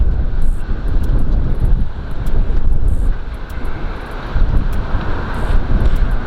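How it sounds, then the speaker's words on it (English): Strong wind blows outdoors, buffeting the microphone with a continuous loud low roar and rumble that surges and eases in gusts, alone and without speech. "This wind ain't no joke today"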